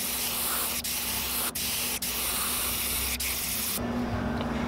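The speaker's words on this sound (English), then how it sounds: "but I'm gonna spray over it." An aerosol can sprays pearl red paint over a lipless crankbait lure: a loud, steady close hiss broken by a few brief gaps, then cutting off near the end.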